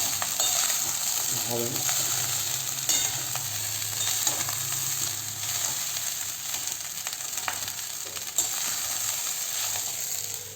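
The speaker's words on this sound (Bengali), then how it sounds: "একটু হালকা নাড়তে হবে। হালকা করে নাড়বো" Chicken chaap biryani being reheated is gently stirred in a pot, giving a continuous sizzling hiss with faint scraping and clinks throughout, and a brief spoken phrase near the start.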